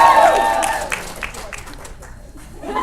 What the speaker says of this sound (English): She's clapping.